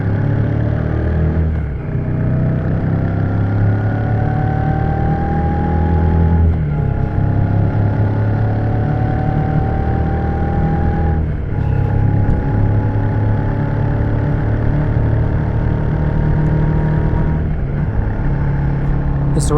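A Shotgun 650 motorcycle cruises on the freeway at 100 km/h, its engine humming steadily up close beneath a constant wash of wind noise, with slight pitch shifts as the throttle changes.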